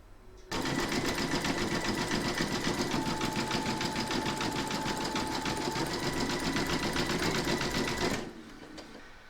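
An embroidery machine zigzag-stitches along the raw edge of a Santa appliqué, a loud, continuous rapid needle rattle running steadily for about eight seconds before stopping abruptly.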